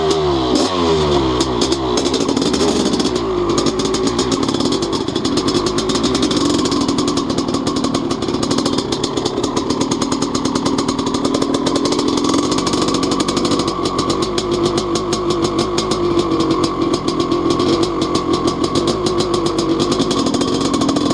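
A Honda CR500 two-stroke dirt bike engine roars continuously while being ridden, loud and close with constant revving, rattling and shifts in pitch, and no talk.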